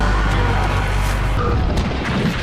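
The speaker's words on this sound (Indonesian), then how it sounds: "Ledakan yang dihasilkan menghancurkan alien itu dan Michelle selamat." A Molotov cocktail explodes against an alien in a bunker thriller film, a heavy continuous booming roar with deep low-end rumble and crackling debris that sustains without a break.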